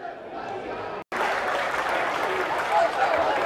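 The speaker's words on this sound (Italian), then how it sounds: "Ecco qui l'11 biancoazzurro che riceve gli applausi dei tifosi della curva sud." Football supporters in the south curva of a stadium during an Akragas versus Enna match applaud, a dense, steady wash of clapping from a large crowd after a brief cut, with a voice faintly audible beneath.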